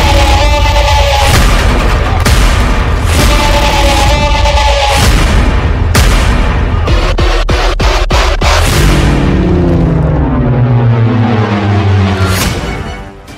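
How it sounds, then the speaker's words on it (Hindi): Explosions in war footage from the Gaza fighting between Israel and Hamas: several heavy, loud booms, then a quick cluster of sharp blasts, ending in a long rumbling decay that fades out. "डबल धमाका, डबल हमला"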